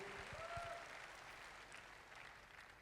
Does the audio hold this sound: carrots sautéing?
no